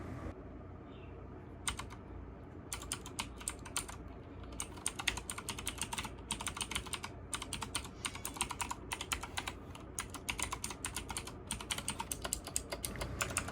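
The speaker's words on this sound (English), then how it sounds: "We're gonna go ahead and do a typing test here in just one sec." A typing test on a Swordbill RGB mechanical gaming keyboard, starting with a few scattered keystrokes and building into rapid, dense clacking that runs close and crisp to the end, with no voice.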